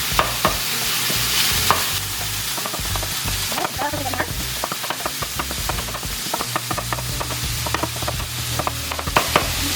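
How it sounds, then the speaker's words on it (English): Chopped onions sizzle steadily in a hot pan for a lasagna while a spoon stirs them, giving frequent scraping clicks over a continuous frying hiss, close and fairly loud with no voice. "Brown my onions."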